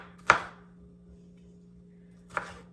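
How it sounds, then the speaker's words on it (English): Two sharp knife chops strike a cutting board while dicing vegetables small, separated by a pause of about two seconds, against a quiet room hum. "I'm chopping them like I do my Greek salad, but I'm doing these small."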